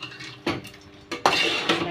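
A utensil stirs prawn pakoda gravy in a cooking pan, making a few close scraping strokes and clinks against the metal with a light sizzle between them.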